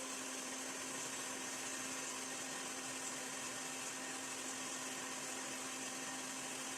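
Electric mixer beating eggs, sugar, oil and lemon juice into a lemon cake batter, a steady unbroken whirring hum with a gritty texture, close and constant with no talking.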